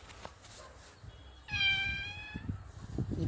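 A mother cat gives one clear, drawn-out meow at close range, a bright tonal call lasting about a second, with quiet rustling and faint background noise around it.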